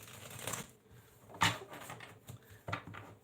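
A tarot deck shuffled by hand, with a few soft, close riffling and tapping bursts separated by pauses and no speech.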